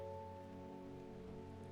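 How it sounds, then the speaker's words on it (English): Steady rain falls in a video game, set in the town of Undermere, a continuous soft wash of drops under a low sustained musical drone, with no talking. "Does it ever stop raining in Undermere?"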